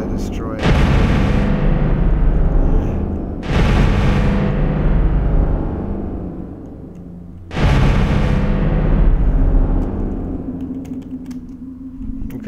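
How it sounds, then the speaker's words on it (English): Pulse weapon blasts in the StarMade space game destroy ship blocks: three loud, heavy booms, each tailing off over a few seconds before the next. "The pulses are bigger than the blocks they're destroying."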